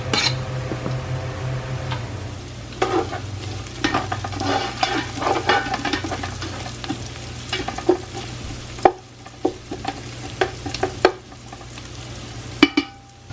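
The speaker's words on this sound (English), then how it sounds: "Now it's time to add the onions." Onions sizzle in a pan with ground beef while a utensil stirs and scrapes, producing steady frying hiss punctuated by repeated sharp clicks against the pan.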